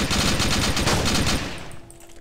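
Rapid automatic gunfire in DayZ, likely from an AK, rattles loud and continuous for about a second and a half before dropping off into quieter echoing tail.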